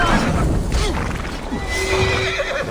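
A horse neighs loudly and close in Assassin's Creed Valhalla, a long whinny with rising and falling pitch sitting over constant game ambience and faint hoof clatter.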